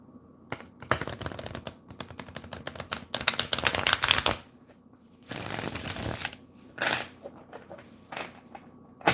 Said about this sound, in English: Do one more